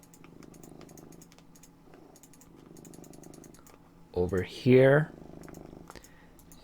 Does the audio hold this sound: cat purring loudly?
yes